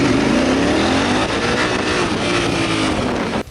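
A 2016 Honda Africa Twin motorcycle accelerating hard in first gear with the throttle open, the loud close engine note rising steadily in pitch for about three seconds before cutting off abruptly.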